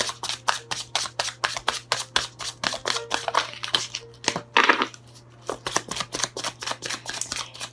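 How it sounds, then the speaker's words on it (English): Brisk, rhythmic shuffling of tarot cards: rapid riffling bursts repeat steadily, close to the microphone, over a faint low hum. "while I'm shuffling"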